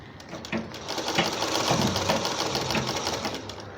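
A sewing machine runs steadily, stitching a seam along the face band of a hijab prayer scarf: a close, continuous rapid whirring chatter of the needle with slight surges in speed.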